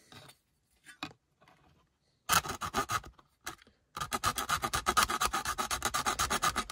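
A blade cuts along a marked line on a car's rear window: sparse faint scratches, then loud rapid rhythmic rasping strokes in bursts, becoming continuous and steady near the end, with no talking.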